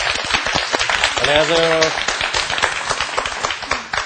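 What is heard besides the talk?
audience applause welcoming a guest teacher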